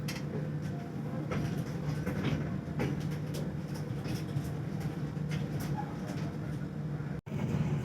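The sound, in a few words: passenger train entering station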